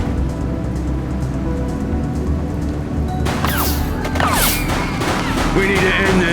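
Gunfire in The Precinct, a police video game: a rapid burst of shots breaks out partway through over a constant engine-like rumble and rattle.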